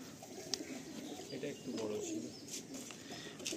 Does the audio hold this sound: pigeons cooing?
yes